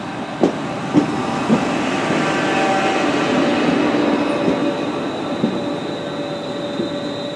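A Merseyrail passenger train rolls steadily along the rails after leaving Rugeley Trent Valley toward Crewe, with a continuous rumble and hum, faint clicks of the wheels passing over track joints coming through near the start.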